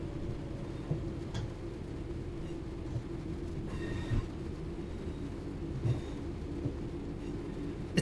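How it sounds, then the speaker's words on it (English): Train running in the video game Train Sim World 6, a steady rumble of wheels on rails with occasional clicks and squeals, fairly quiet and continuous. "It's proper train noises."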